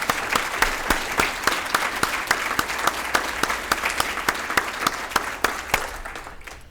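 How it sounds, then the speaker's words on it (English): An audience at a TV station employee reunion applauds for a guest: a steady, close round of clapping with clear individual claps that fades slightly at the end. "And accept our applause."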